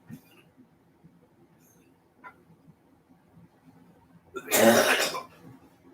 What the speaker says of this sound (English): Why is you coughing?